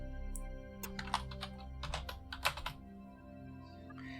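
Keys tapped on a computer keyboard in a quick burst ending with a firmer Enter press, close and clear over a steady low electrical hum, no voices.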